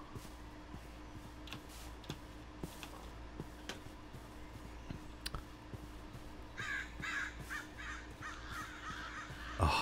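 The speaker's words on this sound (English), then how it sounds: "you've got like the bird sound around" Crows caw in the Crucial video game world, scattered harsh calls at moderate distance over a quiet outdoor ambience, with a few soft ticks and a louder rustling toward the end.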